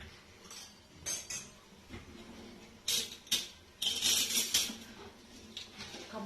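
A metal spoon clinks and scrapes against a cup while coffee powder goes in, giving sharp bright clatters in uneven clusters, some louder taps and short runs of rattling contact, with no talking.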